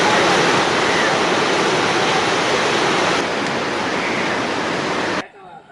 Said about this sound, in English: 3 sluice gates of the Polgola Mahavali Dam were opened early this morning.